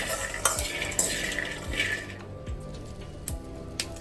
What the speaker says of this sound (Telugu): ఇప్పుడైతే మనకి పల్లీలు అయితే వేగిపోతున్నాయి